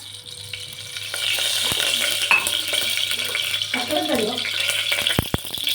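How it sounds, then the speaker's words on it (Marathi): Cumin seeds frying in hot oil for a spiced eggplant curry, a bright, steady sizzle with stirring, a few metallic clinks and a short murmur of speech partway through. "जिरं मस्त तळल्या गेले"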